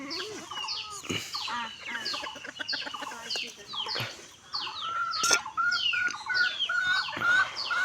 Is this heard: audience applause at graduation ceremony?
no